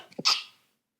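A single sharp sneeze, close and loud, a short breathy intake followed by a bright burst that fades quickly into silence.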